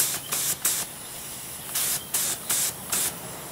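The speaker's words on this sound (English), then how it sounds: "The air regulator knob, if I open it up, I get a lot of air." Short bursts of compressed air hiss from a Harbor Freight 20 oz HVLP spray gun as the regulator is opened, six or seven loud, steady blasts separated by brief pauses, with no voices.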